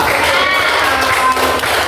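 Classroom applause for the first presenting group, a continuous patter of many hands clapping together at steady loudness.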